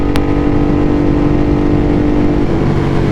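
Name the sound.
Ducati motorcycle engine rev bomb in a tunnel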